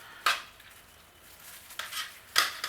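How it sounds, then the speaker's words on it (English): Metal tongs scrape and clink against a pan while stirring a balsamic vinaigrette, three distinct sharp clatters separated by quiet stretches, close and fairly faint overall. "So, I'm going to stir this around."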